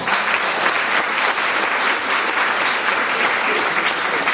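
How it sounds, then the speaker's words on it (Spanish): Loud, dense applause from a conference audience at a mental health and wellbeing congress at the University of Alicante, steady and sustained throughout without pause. "Un fuerte aplauso"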